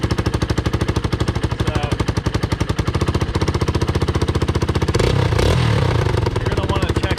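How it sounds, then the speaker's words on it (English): A dirt bike engine kicks over and fires up, then idles with a rapid, steady chugging putter before the throttle is blipped near the end for a louder, brief rev; close and loud, with a voice speaking briefly. "Bring it all the way back up the top, and then give it a kick. And usually, you'll get it to fire right up."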